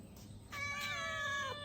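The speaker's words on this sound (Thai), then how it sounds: "คุณแมวพ่อผม" A cat gives a single clear, drawn-out meow, quiet and fairly close, over low background noise.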